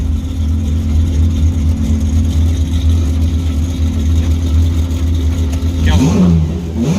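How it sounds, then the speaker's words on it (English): A Datsun GTR replica at the GTR Festival in New Zealand idles with a loud, steady rumble up close before a quick rising rev near the end. "Give it a rev, Mike."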